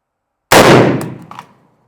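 A single gunshot at a shooting range in Russia, a sharp loud close blast that decays over about a second with a faint metallic ring afterward, no talk.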